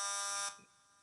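An RF meter picks up a baby monitor's radiation as a loud, harsh electronic buzz, dense and tonal. It cuts off after about half a second and leaves a softer steady hum, with no talk.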